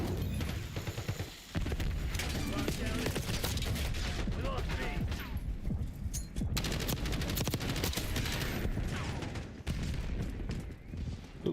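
Gunfire in the Black Ops 6 video game, dense bursts of automatic shots and booms filling nearly the whole stretch, loud and continuous, with a player's voice heard over the firing.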